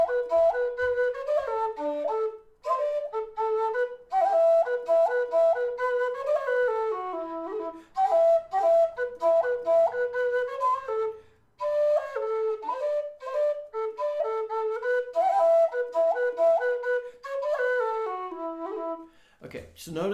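Low and high D tin whistles play the Shoe the Donkey (Glenside) polka, a bright solo melody of quick ornamented phrases with two short pauses, heard close and alone.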